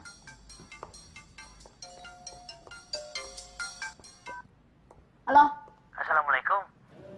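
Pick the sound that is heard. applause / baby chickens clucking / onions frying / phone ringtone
phone ringtone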